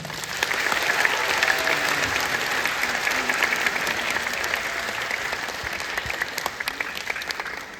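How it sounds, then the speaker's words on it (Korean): A theatre audience claps warmly and continuously at the curtain call of a Korean history musical. The crowd's applause is loud and dense, holding steady throughout and easing slightly toward the end. "우리 더 뜨거운 박수 한번 보내드릴까요?"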